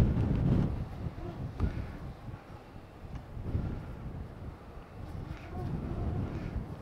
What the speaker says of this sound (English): very windy right now